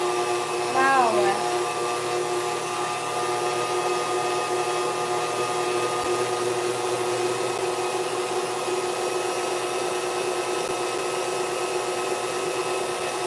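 Stand mixer steadily whirring on low as it whips foamy macaron meringue, a constant motor drone with a brief voice near the start.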